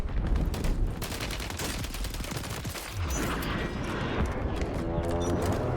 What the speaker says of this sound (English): This fucking little gun is just ripping.